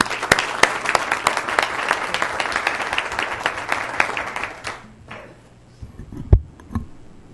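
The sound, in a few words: audience applause at city council meeting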